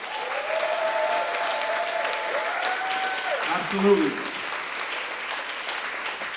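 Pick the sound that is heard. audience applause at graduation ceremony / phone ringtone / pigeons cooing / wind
audience applause at graduation ceremony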